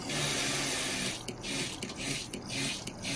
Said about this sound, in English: so let's turn on the pump.